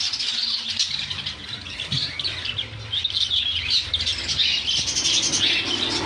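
Budgerigars chirp and twitter continuously inside a bird shop, a busy overlapping chorus of high calls with occasional squawks and a few wing flutters, no voices.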